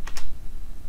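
Computer keyboard typing: two quick key clicks close up right at the start, then a dull low background hum.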